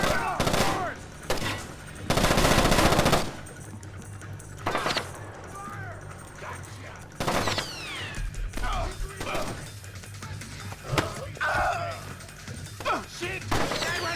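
Gunfire in the stealth action game Splinter Cell: Chaos Theory, with loud bursts of shots and crashes in short clusters between stretches of calmer sound, while voices talk in between.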